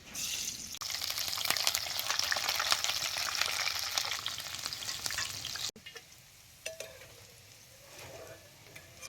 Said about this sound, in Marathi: याच तेलात ते मिरची तळून घेतो